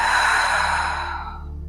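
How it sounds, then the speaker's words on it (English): A long, slow breath is pushed out through the mouth during yoga breathing practice, a breathy rush that starts strong and fades away over a couple of seconds, close and alone. "Hold your breath, relax your body. Exhale slowly out your mouth."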